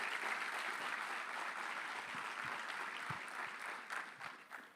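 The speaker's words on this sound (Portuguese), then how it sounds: "Un aplauso al Señor." A church congregation at a worship service gives sustained, even applause, a steady wash of many hands clapping at moderate volume throughout, with a few slightly more distinct claps near the end.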